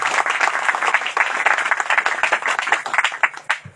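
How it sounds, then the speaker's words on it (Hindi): An audience claps through a church worship gathering, a dense, steady burst of many hands at close range that keeps going for a few seconds and then begins to thin out toward the end. "तो आइए हम ताली बजाते हैं इसी के लिए।"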